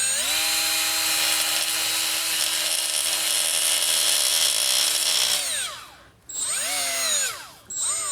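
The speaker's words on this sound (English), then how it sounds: "Just got a little 1/8 inch right angle grinder with a little scrubby tool here, and we're just gonna flatten it out." A small 1/8-inch right-angle grinder fitted with a scrubbing pad whines at high speed, loud and close, flattening a surface on Tesla Model 3 carbon ceramic front brake parts, then spins down and revs back up in short bursts.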